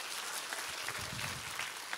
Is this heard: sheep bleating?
no